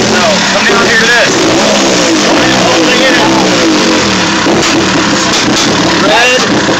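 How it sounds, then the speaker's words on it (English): A Polaris RZR off-road vehicle with a new Odyssey battery revs under throttle, its engine loud and close with rough, uneven surges throughout, while someone talks over it. "Now I'm going to try to use a little bit of gas."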